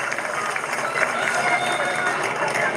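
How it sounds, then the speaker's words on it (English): A crowd claps steadily at an AFLW match at Brighton Homes Arena as a player comes off to the bench. The dense, even applause runs throughout, with a commentator talking over it. "Campbell gets a round of applause as she comes to the bench here at Brighton Homes Arena"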